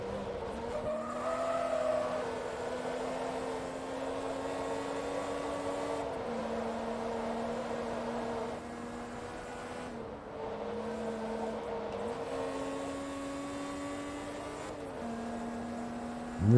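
A race car engine in Forza Motorsport 2 drones steadily, climbing through the revs and dropping at each gear shift in a repeating pattern, loud and continuous throughout.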